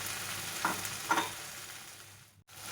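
Paneer being stirred into a sizzling masala in a pan for Punjabi-style paneer bhurji, with a steady low frying hiss and two brief scraping stirs close up, no talking.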